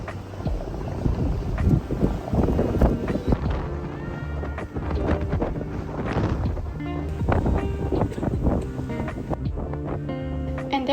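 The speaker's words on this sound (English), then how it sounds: "It was also extremely windy on the ferry" Strong gusty wind buffets the microphone on a ferry in New York City, over a steady low rumble of engine and water, continuous and loud throughout.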